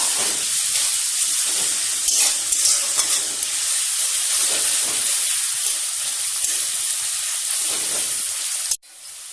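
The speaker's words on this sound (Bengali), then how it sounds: "এবার আমি এটাকে নাড়বো, নেড়ে একটু ভেজে নিব" Egg chowmein noodles are being stirred and fried on medium heat, giving a loud, continuous close sizzle and hiss with scraping stir strokes, until the sound cuts off abruptly near the end.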